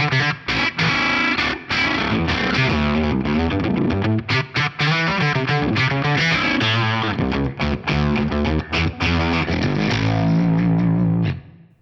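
An electric guitar plays choppy single notes through a ring modulator effect, harsh and metallic, with warbling, clangorous tones and abrupt stops.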